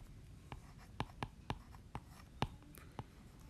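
Chalk or pen taps and scratches sharply as equations are written on a board, a sequence of about nine crisp, irregular strokes close by, faint and otherwise quiet with no talk over them.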